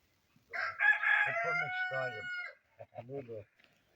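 A rooster crows once, loud and close, on a Ukrainian village farm in summer heat, with a long drawn-out call, followed by a few short clucking or muttering notes.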